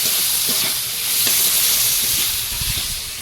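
Catla fish head frying with turmeric, salt and sugar in a pan, a loud continuous sizzle and hiss with low stirring scrapes running throughout.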